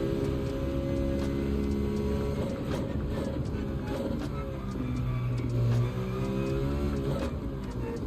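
Citroen race car engine in Gran Turismo 7 on the Lago Maggiore circuit, a continuous synthetic engine whine rising and falling with shifts and throttle through corners.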